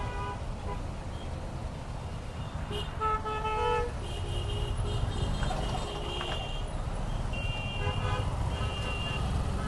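Congested road traffic in Gulshan, Dhaka, with several car horns tooting in short bursts over a steady engine rumble, continuous and fairly close throughout.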